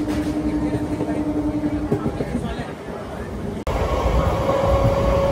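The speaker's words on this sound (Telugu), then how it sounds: "ద్వారపూడి వస్తున్నట్టుంది, అందుకే స్లో అవుతుంది ట్రైన్" A MEMU passenger train slowing near Dwarapudi between Rajahmundry and Visakhapatnam, heard from onboard as a steady rumble and rattle of the carriages with a tonal hum, loud and continuous, with a brief break partway and faint voices mixed in.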